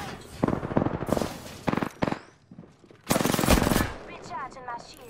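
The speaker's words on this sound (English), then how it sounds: "I am taking fire, friends." Gunfire in the Apex Legends video game comes in rapid automatic bursts and single shots, loud and close, with brief gaps between volleys.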